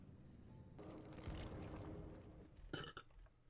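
A person lets out a single, fairly quiet burp, a short croaking eructation heard up close with no talking around it.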